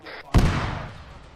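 A single loud, booming gunshot or explosion in the military shooter Arma 3 cuts in after a brief faint tone, its heavy low thump trailing into a long rumbling decay with no speech over it.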